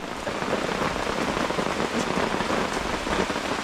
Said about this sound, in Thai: ยังไม่ทันขาดคำฝนก็ตกอรอดแล้ว